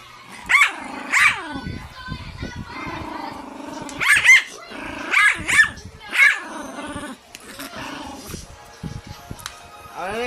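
A puppy growls and barks in repeated short bursts close by, with bouts of snarling between sharper barks, while people talk and call out over the commotion.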